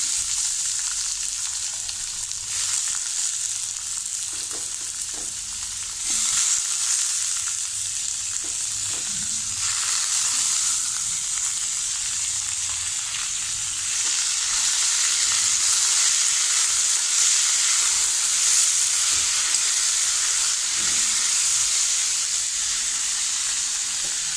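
Chopped onions sizzle and crackle steadily in a hot pan with dried chilli and curry leaves, with occasional stirring scrapes; a continuous, close frying hiss with no voices.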